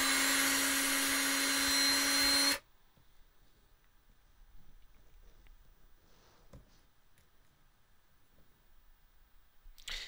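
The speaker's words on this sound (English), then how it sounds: "But we're going to drill out the head." A power drill bores about a quarter inch into the head of an LJN Dungeons & Dragons Warduke action figure, a loud steady whine lasting two and a half seconds before cutting off to near silence and faint handling noise.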